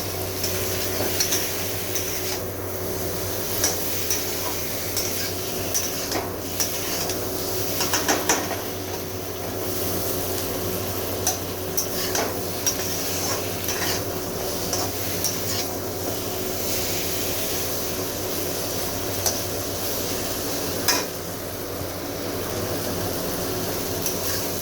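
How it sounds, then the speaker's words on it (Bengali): Mustard fish curry (mourola machher jhal) sautéing in a pan with a steady sizzle and frying hiss, broken by occasional scraping and clinking of a utensil stirring against the pan, with no voices. "আমার কষানো হয়ে গিয়েছে"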